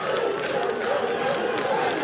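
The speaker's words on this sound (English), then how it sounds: "And that'll get the crowd to their feet." Crowd at a Little League baseball championship game between Kentucky and Ohio cheering and clapping steadily after a first hit, a dense, continuous roar of many voices throughout.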